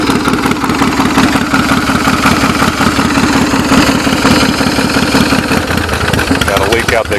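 An 88-inch stroker Shovelhead motorcycle engine, started for the first time after sitting ten years, runs loud and close with a lumpy, pulsing idle and a rough, rattly texture throughout.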